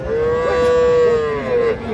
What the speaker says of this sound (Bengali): এই যে এই পাশে একটা সার বাছুর দেখতেছি আমরা।